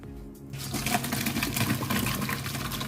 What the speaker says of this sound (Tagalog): And then, i-drain na natin yung ating pasta.